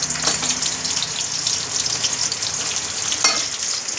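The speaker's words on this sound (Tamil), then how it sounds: "வெங்காயம் பச்சை மிளகாய் போடு போடு. கிளறு" Chopped onions and green chillies sizzle loudly in hot oil for a Coimbatore-style kaadai (quail) gravy, a constant close hiss as they are stirred, with a clink of the ladle near the end and no talking.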